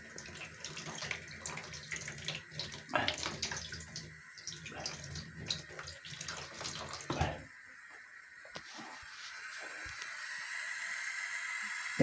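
Water runs steadily from a tap in a continuous hissing splash with a few clunks, then the flow eases into a softer, thinner trickle.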